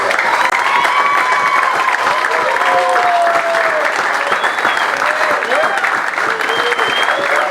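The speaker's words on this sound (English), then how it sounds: "give him a huge round of applause" Loud, dense applause from an award ceremony crowd at a Caribbean over-50s cup event, steady clapping throughout with whistles and scattered cheers and voices mixed in.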